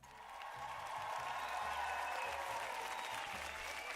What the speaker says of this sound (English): I shall give you a round of applause